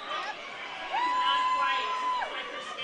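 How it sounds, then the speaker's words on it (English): Roller derby crowd at a bout between 580 Rollergirls and Tornado Alley, a steady murmur of spectators with a sustained high whoop or whistle-like cheer rising over it, while a commentator talks. "Crowd starting to get in a little bit."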